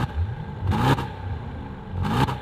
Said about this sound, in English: This is with the car in quiet mode.